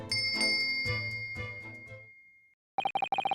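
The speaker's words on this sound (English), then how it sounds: "Yes, it's a bell cord." A bell rings after a bell cord is tugged in The Great Ace Attorney Adventures: several bright chimes ring out and fade away, then after a short silence a quick series of sharp, repeated electronic rings follows.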